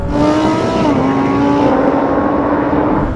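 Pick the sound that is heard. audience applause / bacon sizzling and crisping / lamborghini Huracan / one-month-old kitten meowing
lamborghini Huracan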